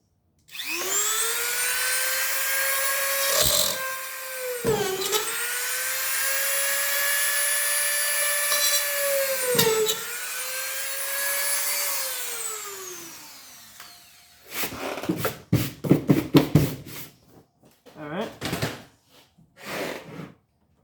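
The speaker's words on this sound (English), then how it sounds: "That same little Dremel bit, same bit. Didn't really change anything. I'm going to just shove it in this hole and push it through." A Dremel rotary tool whines at high speed in three long bursts that sag in pitch as the bit is pushed through holes in a shot clock plug, followed by a run of clattering handling knocks, close and loud.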